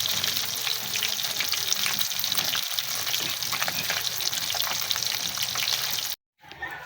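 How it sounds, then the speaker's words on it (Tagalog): Milkfish frying in hot oil, a dense, loud, continuous crackling sizzle heard up close that runs unbroken for several seconds and then cuts out abruptly, with no talking over it. "Prituhin na muna natin ang ating bangus."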